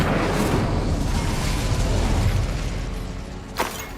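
The Incendio fire spell cast in the Hogwarts Legacy video game produces a loud, dense burst of roaring flame that fades gradually, ending with a short sharp crackle.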